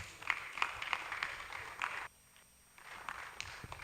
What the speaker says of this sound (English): Let's keep sustaining that applause.